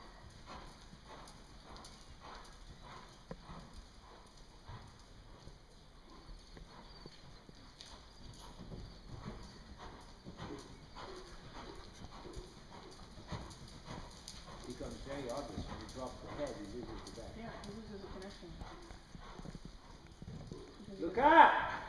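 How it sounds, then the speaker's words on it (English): A horse trotting during a riding clinic session, with a soft, regular clip-clop of hooves that grows slightly louder over time and a trainer's voice talking over it. "But that's how you want to break to trot to get the bigger trot."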